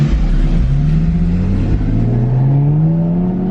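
Turbocharged Ford F250 truck accelerating hard while racing a G35, its engine note climbing steadily in pitch, loud and continuous with no talking.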